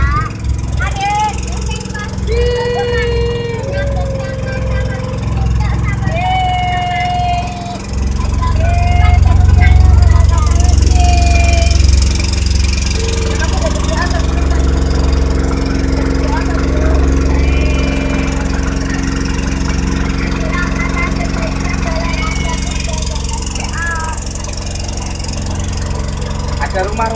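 A small boat's engine on Rawa Pening lake near Ambarawa, Central Java, drones loudly and steadily, swelling midway, while people chat and high squealing voices cut in over the rumble.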